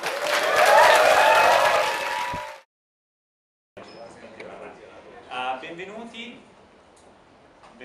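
An audience at a Startup Grind Milan event gives loud, full applause for about two and a half seconds before it cuts off; after a pause, a quieter stretch of talking follows.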